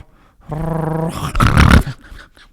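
A man imitates a dog growling with his voice, a rough buzzing growl that rises into a louder, harsher burst before trailing off, close and loud.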